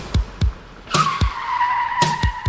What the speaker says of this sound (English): Suddenly, Mr. Rush pulled up in his black Maserati, tires screeching to a halt.